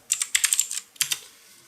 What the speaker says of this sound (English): hitting enter on the keyboard